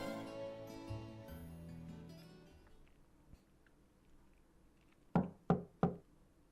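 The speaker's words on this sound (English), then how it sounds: "Knock and enter." Three sharp knocks on a door in the Trails of Cold Steel role-playing game, evenly spaced and close, following a fading musical passage and near-silence.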